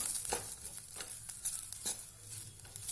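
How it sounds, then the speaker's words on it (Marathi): Coconut roasting in a pan being stirred: a continuous dry sizzle and hiss with regular scraping strokes from a spoon against the pan, close and alone with no voices. "मी इथे खोबरं पण भाजून घेते खोबरं भाजायला जास्त वेळ लागत नाही"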